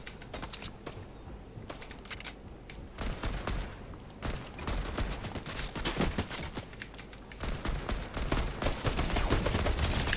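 Gunfire in the Fortnite video game, from one of the older weapons, crackles in quick volleys and rapid bursts that grow denser and louder toward the end.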